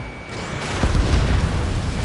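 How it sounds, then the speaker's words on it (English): A missile launches and explodes in the combat flight game Ace Combat 7, a deep rumbling boom that swells after a quieter start and holds loud, dense and close to the end. "Missile away."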